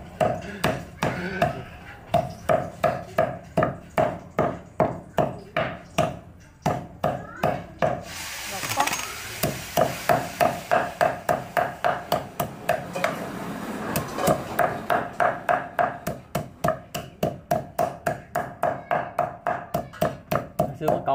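A hammer repeatedly pounding duck meat on a wooden board to tenderize it, steady rapid thuds close by with a short pause midway, while people talk.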